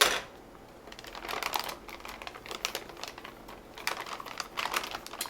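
Scissors cutting open a makgeolli powder pack, with a series of crisp close snips and rustling plastic crinkles in two short bursts.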